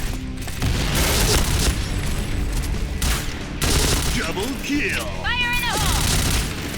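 Video game gunfire, loud dense bursts of shots and booms filling the scene nearly throughout, with a person's voice talking over the action.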